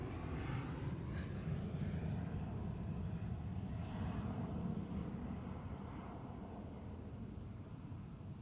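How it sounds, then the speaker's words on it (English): KLM Boeing 777 in KLM Asia livery lining up on a runway at Amsterdam Schiphol, a steady distant jet engine rumble and whine holding evenly, with wind noise and no talk. "And the KLM 777, KLM Asia, lining up right now"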